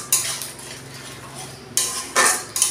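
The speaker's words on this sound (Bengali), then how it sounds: "দেখুন, আমি মশলাটা 2-3 মিনিট খুব ভালোভাবে কষিয়ে নিয়েছি" Spice paste is stirred and sautéed in a pan for a Bengali jackfruit curry, a spoon scraping and clanking against the metal in bursts over a low sizzle, close and fairly loud, with no talk.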